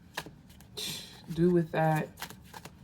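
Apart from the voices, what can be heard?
shuffling tarot cards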